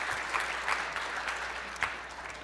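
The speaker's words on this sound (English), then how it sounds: "let's give Anthony another round of applause" A conference audience claps steadily for a couple of seconds, a dense crowd patter at moderate volume with a few sharper individual claps standing out and no talk.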